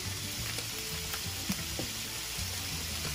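Ground turkey frying and browning in a pan, with a steady close sizzle and occasional spoon-stirring clicks and scrapes throughout.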